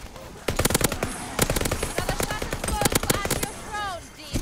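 A light machine gun in the shooter game Call of Duty: Vanguard fires rapid, loud bursts of shots, with brief gaps and mechanical clatter near the end.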